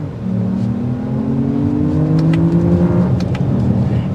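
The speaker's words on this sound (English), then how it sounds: "listen to this exhaust." A 2024 Lexus RX 500h F-Sport hybrid crossover accelerates hard, its engine and exhaust note rising steadily in pitch from inside the cabin, loud and continuous with no talking.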